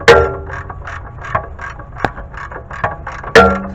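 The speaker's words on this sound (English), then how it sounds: "just going to go ahead and continue ratcheting this out, and it should come out like so" Ratchet wrench clicking in quick repeated bursts, close up, with a few sharper metallic knocks as a bolt is backed out of the rear upper control arm on a 2004-2010 BMW 5 Series E60.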